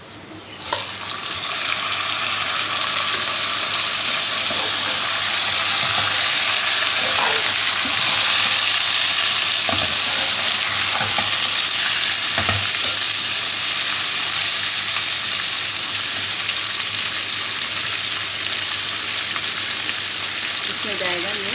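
Chicken pieces coated in spices fry in a pan over a low flame for a spicy chicken dum aloo, giving a steady, dense sizzle that runs the whole time with occasional stirring scrapes and no talk.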